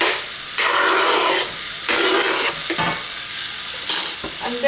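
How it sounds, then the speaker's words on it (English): Vegetables sizzle and hiss in a frying pan while being stirred, with loud bursts of frying that swell and ease in waves, no talking over them. "I'm going to continue frying these now until these start to soften as well."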